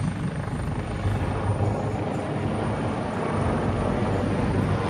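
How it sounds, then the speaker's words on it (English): An AgustaWestland 139 medium utility military rescue helicopter at an air show, its steady rotor thump and engine roar holding loud and continuous throughout without any voices. "starting with the Augusta Westland 139. The 139 is a medium-sized utility helicopter."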